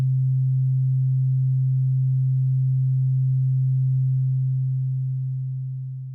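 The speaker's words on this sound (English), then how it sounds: "A sine wave only has a fundamental tone and no harmonics" A steady, pure low hum of a single synthesized tone, smooth and unwavering, sounding alone and fading slightly at the very end.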